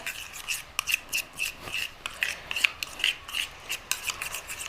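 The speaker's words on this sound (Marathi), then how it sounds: "शॅम्पू, हळद आणि कोलगेट हे जी एकदम चांगली पेस्ट बनवून तयार करून घ्यायची आपल्याला." Shampoo, turmeric and Colgate toothpaste are stirred into a paste, producing rhythmic, close scraping and rubbing strokes in a steady back-and-forth pattern.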